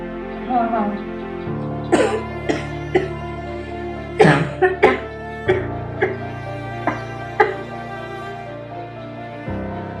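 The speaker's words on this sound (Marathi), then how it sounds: "खोकला लागलाय तुम्हाला" Someone coughs repeatedly in short, rough bursts, spaced irregularly, with a steady hum in the background.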